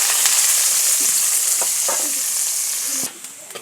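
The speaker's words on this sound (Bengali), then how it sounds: "গাইস এখন এই তেলে পেঁয়াজ গিলা দিয়া নিতেছি।" Onion paste frying in hot oil for a chicken curry, a loud, bright, steady sizzle close by, with faint stirring scrapes and a sudden drop to quieter crackling near the end.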